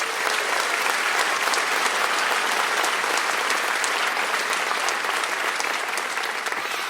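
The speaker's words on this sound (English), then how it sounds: "Round of applause for them." A graduation audience at a 2023 West senior ceremony bursts into sustained, dense applause, many hands clapping steadily and loudly for the full seven seconds.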